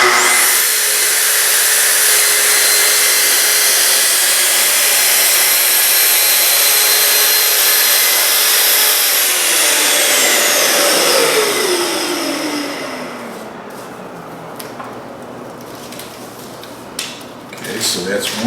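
A Festool track saw climb cuts wood veneer backwards from the edge for seaming, giving a loud sustained whine that winds down after about thirteen seconds, then quieter handling clicks.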